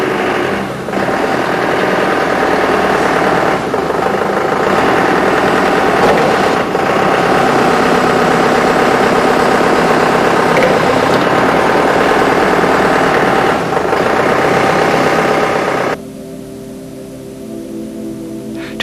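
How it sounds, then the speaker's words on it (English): A Toyota forklift runs with a steady, loud engine drone while its hydraulic levers are worked, the tone shifting slightly at moments before the engine note drops off sharply near the end. "Operate the levers and check that each cylinder functions properly."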